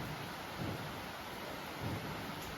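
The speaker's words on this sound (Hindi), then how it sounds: "ये देखो बारिश की आवाज़ से पता लग रहा है बारिश बहुत ज़्यादा तेज़ हो गई है" Steady, heavy rain pours down in a dense broadband hiss, with low rumbles swelling faintly underneath; no voices.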